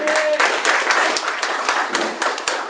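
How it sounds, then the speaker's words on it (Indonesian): An audience at a charity campaign event in Indonesia gives a short, brisk round of applause for a speaker, with many hands clapping close together in a dense, fairly loud burst. "Kita tepuk tangan buat Valian."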